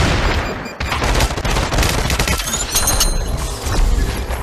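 Dense, continuous gunfire and explosions in a shooter video game, loud and close throughout with overlapping bursts and cracks, and no talk.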